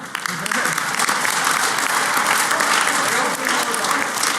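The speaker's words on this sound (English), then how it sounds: "Applaud now." An audience at the Black Hat USA 2013 Pwnie Awards applauds in a loud, sustained burst of clapping that fills the room at a steady level for several seconds, with faint crowd murmur beneath.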